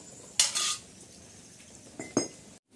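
A pot of mangoes set on the stove to boil, heard as two short metallic clanks of cookware, one near the start and another about a second and a half later, against quiet kitchen background.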